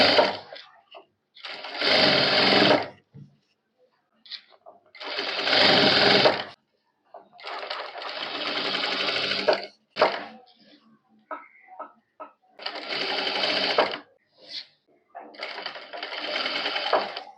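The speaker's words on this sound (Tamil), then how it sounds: "ஸோ இதை ஈவனா வச்சு மேக்ஸிமம் எவ்வளவு எட்ஜ்ல தைக்க முடியுமோ அந்த அளவுக்கு இதை எட்ஜ்ல நம்ம ஸ்டிச் பண்ண" Sewing machine stitching blouse piping close to the fabric edge, running in several loud bursts of a few seconds each, separated by short pauses with faint handling clicks.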